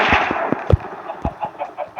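Several short, sharp chicken clucks from a video game in an irregular pattern over a faint background hiss, close and distinct.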